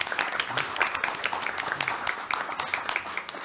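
A crowd applauding a lawmaker at a National Assembly debate forum, brisk dense clapping throughout at moderate volume, fairly close.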